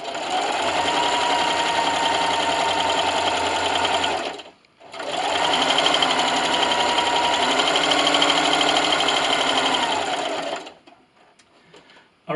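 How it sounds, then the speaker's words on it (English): A sewing machine runs steadily while stitching a quilted glasses sleeve, a loud, even mechanical whir close by that pauses briefly midway, then resumes before stopping. "I'm starting at my first pin and I'm going to backstitch. My length is still a 3. And then just keep sewing."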